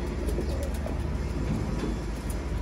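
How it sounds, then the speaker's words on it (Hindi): Pigeons coo in low, repeated throaty calls, close and steady, over a constant background hum, with no one talking. "ये अच्छे से अच्छे कबूतर आपको दिखाए जा रहे हैं"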